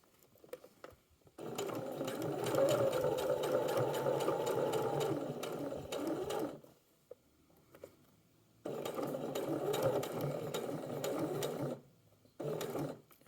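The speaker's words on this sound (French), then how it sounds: "je vais coudre tout droit maintenant" A sewing machine stitching a straight seam while attaching a hook-and-eye closure, whirring steadily in two long runs with a short burst at the end, separated by pauses with light handling noises.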